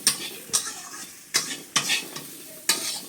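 A spoon stirs red amaranth stems in a hot pan, producing a loud sizzle broken by about five sharp scraping strokes against the pan at irregular intervals.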